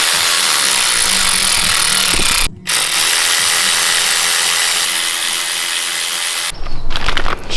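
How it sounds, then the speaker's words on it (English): Power tool spinning out the flywheel bolts on a Subaru STI during a six-speed clutch install, a loud steady whirring run with a brief cut partway and a sharper burst of ratcheting at the end. "So now we're getting the flywheel off"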